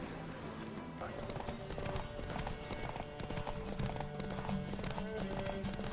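Horse hooves clip-clop steadily in The Witcher 3 video game as saddled horses set off for a race, the rhythmic trotting running the whole time amid game music and a whinny.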